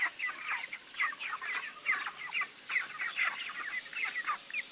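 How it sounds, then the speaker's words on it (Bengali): Many chickens and roosters on a poultry farm, a dense continuous chorus of overlapping clucks at moderate distance with no talking. "মাশাআল্লাহ মোরগ আছে, অনেক মোরগ আছে, মুরগির চেয়ে মোরগ বেশি।"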